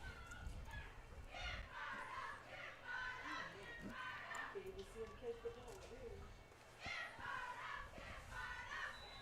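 Crowd at a high school football game in Abbeville, first game of the season, heard as a loud, sustained cheering and shouting swell that rises and falls in waves, with a commentator talking over it.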